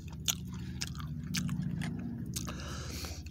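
Someone chews a warm homemade meatloaf sandwich with ketchup, with soft, moist chewing and a few sharper bites close to the microphone over a steady low background hum.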